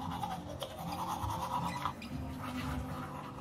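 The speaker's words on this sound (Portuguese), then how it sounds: "Só vou escovar os dentes antes." Teeth being brushed with a toothbrush, a close, continuous scrubbing and rubbing sound with faint wet texture and no talking.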